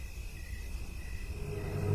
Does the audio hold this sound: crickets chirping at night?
yes